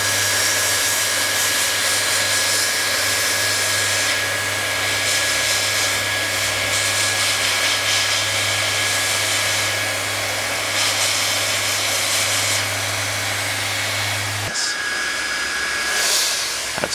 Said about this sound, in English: That's like a tack weld in the world of plastic welding.